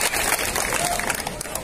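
An audience at a live stage show in Mumbai claps, a dense continuous wash of applause heard up close.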